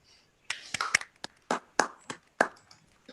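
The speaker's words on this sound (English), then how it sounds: "I would say big applause to all of us" Sparse, scattered handclaps at the close of an online regional conference, a few separate claps spread out with quiet gaps between them, fairly faint.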